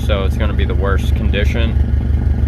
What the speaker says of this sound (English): obviously the car's just idling right now, not getting any air flowing through